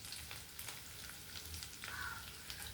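Taro pieces roasting in oil in a pan, a soft continuous crackling sizzle with occasional stirring scrapes, faint and close, with no talking.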